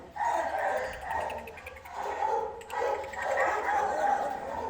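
Small dogs in shelter cages bark, yip and whimper in a continuous overlapping chorus, moderately close, filling the room with a little reverberation.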